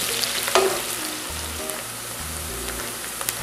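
Onions frying golden over medium-low heat in a pan, a steady close sizzle with a few light stirring clicks and scrapes, no voices.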